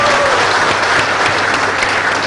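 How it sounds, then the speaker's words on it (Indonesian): An audience applauding at a university talk, dense sustained clapping from a crowd filling the room, loud and steady throughout. "Jadi kita beri aplaus dulu untuk Bung Anas dan kawan-kawan."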